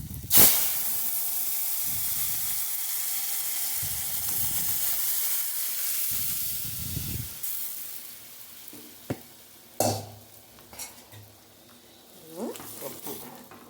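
Tomato dal frying in a pan, a steady broadband sizzle and hiss running close and loud through most of the stretch, with a few clinks and stirring knocks toward the end.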